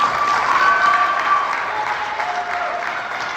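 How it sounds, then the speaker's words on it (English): A high school percussion night audience breaks into loud, dense applause that holds steady and then eases slightly, with no talking. "So can I get another round of applause for it?"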